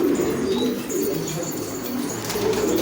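Several pigeons coo steadily at a bird market, a low continuous murmur of overlapping calls over a busy broadband background with no clear pauses.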